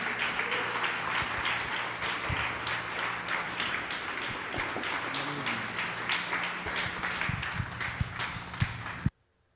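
A church congregation stands and applauds a visiting pastor, a steady roomful of clapping with a few sharp thumps, ending abruptly in silence.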